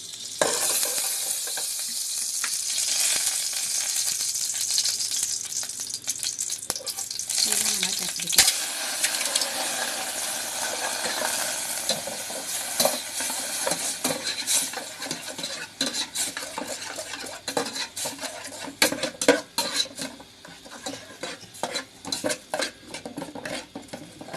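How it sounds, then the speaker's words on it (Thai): Thai curry paste stir-fries in a little oil for a beef and pumpkin coconut curry, a steady bright sizzle running throughout with scraping stirs and occasional clinks of a utensil against the pan, close and without talk. "อันนี้เราจะทำการผัดพริกแกงก่อนใส่น้ำมันไปนิดนึง"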